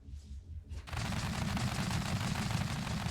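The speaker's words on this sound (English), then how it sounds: "you can tell that I tried to make 2 Gatling guns on this platform" Twin Gatling guns on a single platform in the tank game Sprocket fire a dense, continuous, loud roar of rapid shots. It starts abruptly after a brief quiet moment and holds steady with no talk.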